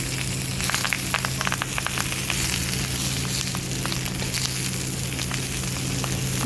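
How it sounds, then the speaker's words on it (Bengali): Veg paneer paturi, wrapped parcels of paneer, sizzle and crackle steadily as they fry in a pan, a continuous dense hiss with scattered pops and a low steady hum beneath, close and alone without talk. "এই পাতুরিগুলোও আমি ভেজে নেব"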